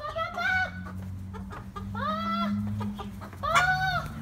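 Backyard chickens, a grown white rooster and hens, clucking in three clear bursts of harmonic calls, close and fairly loud, over a steady low hum.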